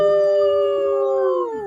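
A man imitates a wolf with one long, sustained howl, a clear steady tone that bends downward at the end, loud and close.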